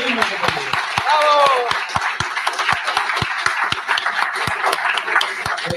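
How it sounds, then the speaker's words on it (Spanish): An audience at a Lima rally claps in sharp, distinct beats. A cheer rises briefly near the start, and a voice talks over the early part. "pedimos acá a todos un fuerte aplauso para los conos de Lima"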